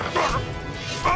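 A dog barks twice in a Gothic 3 game scene, two short mid-distance barks over a steady low game background.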